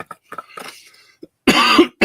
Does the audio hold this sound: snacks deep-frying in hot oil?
no